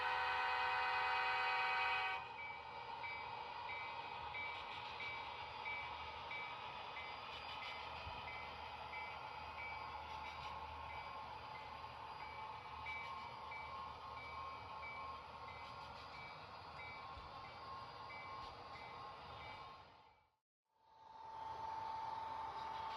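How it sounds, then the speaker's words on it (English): An HO scale model train runs on a basement layout with a 28-inch radius curve and 2.2% grade, giving a steady, low rumbling hum that continues for a long stretch before briefly cutting out and resuming near the end. "The train now proceeds down to Helens."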